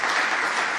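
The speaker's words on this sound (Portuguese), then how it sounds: "Você pode aplaudir o Senhor Jesus?" Brief burst of church congregation applause, a dense continuous wash of clapping from many hands, loud and steady with no voices on top.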